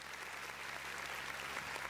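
A canned applause sound effect plays during an online community and finance discussion; a soft, continuous wash of clapping hands, faint and steady, over a low background hum.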